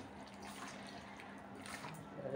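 Prawns washed in water with turmeric and salt in a home kitchen, a faint, steady wash of running and splashing water with no clear breaks.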